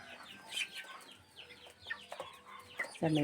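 Young chicks in a brooder peep and cheep in a busy, overlapping chorus of high, thin calls, close and fairly faint, with a louder rustle at the end.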